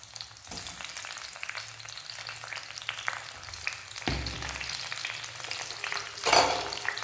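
Four small tomatoes hit hot oil with a tempering of curry leaves for a broad bean and tomato curry, setting off a loud, steady sizzle that surges near the start and again toward the end, with occasional stirring and no voices.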